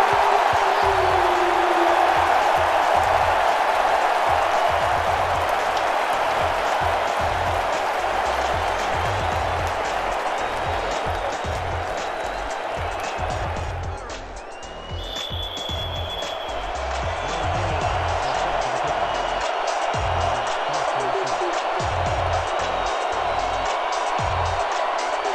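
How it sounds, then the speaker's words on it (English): A capacity stadium crowd at a football game roars continuously after an extra point, a dense, loud wash of cheering that dips briefly midway before swelling again, with no talk over it. "The capacity crowd here at Blue Sun"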